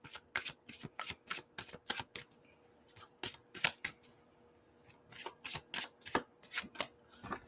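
An oracle card deck being shuffled by hand, a series of crisp rapid riffling bursts with short pauses between, close and fairly quiet, with no voices.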